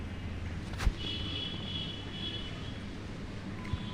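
An airplane in a 3D bike video game gives a steady, moderately loud engine drone with a thin high whine, broken by a sharp click near the start and another near the end.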